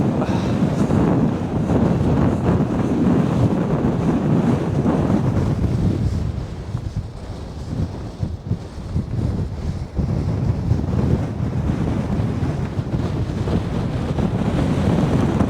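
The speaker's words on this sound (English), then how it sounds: "The wind's getting up." Strong wind roars across a Cairngorm hillside in Scotland, buffeting the microphone in a steady loud rush that dips briefly midway before building again.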